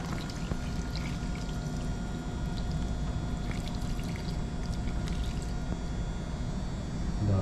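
Coconut milk dissolved in hot water pours steadily into a pot of cooking tilapia, making a continuous splashing gush over a low background rumble with no pause.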